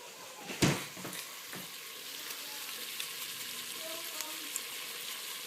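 Lamb meat with onion cooking in a pot for a lamb and runner bean stew, a soft continuous sizzle with one sharp clatter near the start, moderate and close, with no speech.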